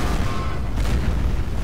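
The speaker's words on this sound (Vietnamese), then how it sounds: "Pháo nó bắn quá, quá." Artillery fire in the real-time strategy game Company of Heroes, a dense, rumbling barrage of booms and blasts that rolls on continuously throughout.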